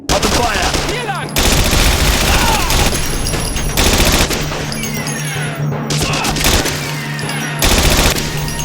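Gunfire in the World War II shooter game Battlestrike Shadow of Stalingrad: loud, sustained bursts of automatic fire with sharp overlapping shots and short pauses between volleys, close and dense.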